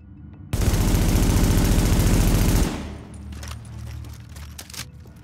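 A loud, sustained burst of rapid automatic fire from a modded gun in The Division, lasting about two seconds before cutting off, followed by quieter clinks and rattles.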